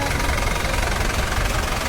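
Tractor engines idling and rumbling together at a farmers' tractor parade, a loud, steady low-pitched drone with knocking diesel vibration and no break across the moment.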